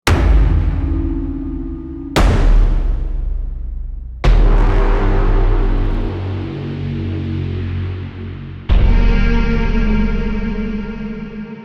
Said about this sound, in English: So it's just the organic hits merged and mixed up with a lot of effects